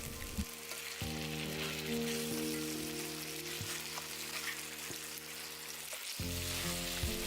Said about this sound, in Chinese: 时不时用铲子稍稍按压一下，再煎2分钟